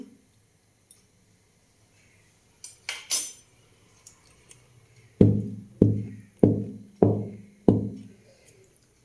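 A cake tin filled with batter is knocked firmly on a surface five times in a steady rhythm to remove bubbles, after a few lighter clinks and scrapes; close and fairly loud.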